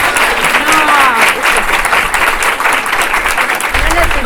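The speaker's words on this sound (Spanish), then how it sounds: "Un aplauso." At a regional conference on proofreading, a crowd applauds loudly and continuously, with some voices mixed in beneath the clapping.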